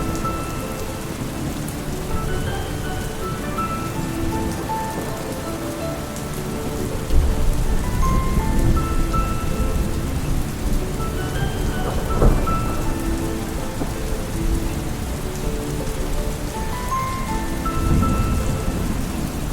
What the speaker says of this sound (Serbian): Jedne noći nastade strašna oluja.